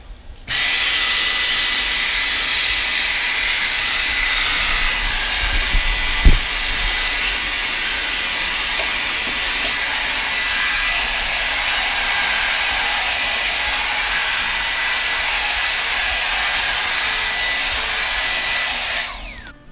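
A Dyson V8 Absolute Plus cordless vacuum cleaner starts up and runs with a loud, steady high-pitched whine for nearly twenty seconds. There is one brief thump partway through, and then it shuts off.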